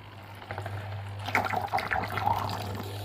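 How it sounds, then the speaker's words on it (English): Vinegar trickles and sloshes through a motorcycle fuel tank, a soft liquid gurgle that swells after the first second into a busier, splashing flow over a steady low hum. "So it's just running in some vinegar."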